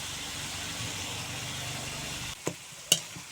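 Spices sautéing in a pan with a little water and salt for an okra and potato curry: a steady, close sizzle, then two sharp utensil knocks against the pan near the end.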